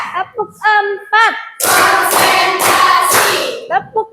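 A school class claps in rhythmic counted bursts, several loud group claps following a teacher's spoken count, close and energetic.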